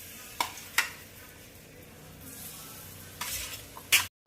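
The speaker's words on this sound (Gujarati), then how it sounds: "હવે આપણે ગેસ બંધ કરી દેશું અને કેળા નાખી દેશું" Ripe bananas go into hot oil in a pan with the heat off, giving a few sharp sizzling bursts and clinks of stirring against a quiet background.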